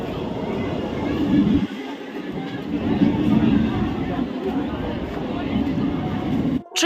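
A train slowly pulling into platform two at a railway station gives a steady, heavy rumble that fills the scene, with crowd babble and voices mixed through it.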